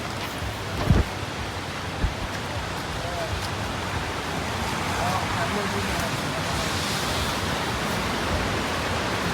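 A steady, broad rushing roar of a waterfall in Wales fills the clip, with a few dull knocks near the start and the roar swelling slightly toward the end.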